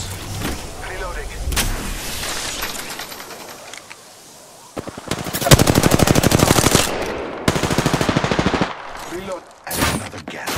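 Automatic weapon fire from the battle royale game Apex Legends, bursts of rapid shots starting around midway, loud and close, with gaps between volleys and game sound beneath.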